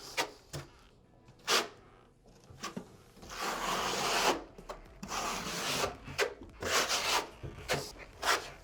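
A trowel rubs and scrapes thin-set into a shower base substrate over plywood, pressing it in with repeated rasping strokes in uneven bursts, close and fairly loud, with no talk.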